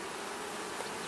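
Honey bees at a hive give off a soft, unbroken buzzing drone, faint and even from start to finish, with no voices.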